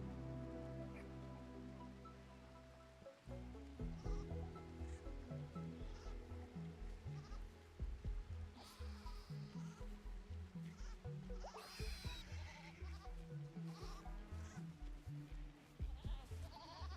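Goats bleat in the colony-building game Rimworld, with repeated short wavering cries at an uneven pace against a steady ambient game soundtrack.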